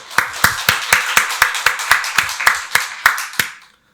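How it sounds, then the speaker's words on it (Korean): A church congregation at a Sunday worship service claps in a quick, even rhythm, about fourteen sharp, close claps in unison that stop after roughly three and a half seconds. "박수로 하나님께 영광 돌리겠습니다."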